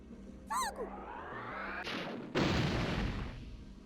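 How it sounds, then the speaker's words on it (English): A mortar shot in the game Worms Armageddon, with a short whistling launch followed by a deep booming explosion that rumbles and decays. "Let's try to use the mortar again."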